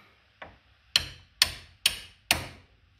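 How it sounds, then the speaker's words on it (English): Hammer taps on a stiff bolt of a 2003 Polaris Sportsman 500 H.O. ATV during rear axle removal: one light tap, then four sharp metallic strikes at an even pace, close and clear with no talking. "This one's a little stiff, so I'm just going to use a hammer to tap on it,"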